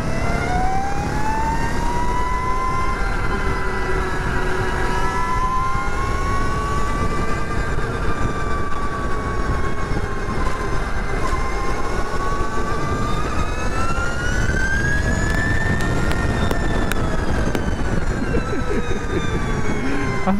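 While riding, the electric motor of an Energica Ego motorcycle gives a continuous high whine that rises and falls with speed over steady wind and road rumble, loud and close throughout.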